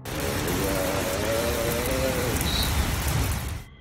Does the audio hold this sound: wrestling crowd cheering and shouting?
no